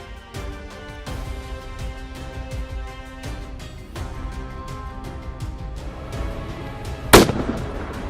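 A single sharp gunshot from a hunter cracks out loud near the end, standing alone above a continuous tonal musical background.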